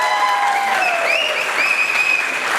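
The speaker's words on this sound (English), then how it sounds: "Can we have a round of applause for our couple" Wedding guests give a round of applause for the couple, Randy and Nikita: a brisk, continuous clatter of many hands with bright whistles sliding above it.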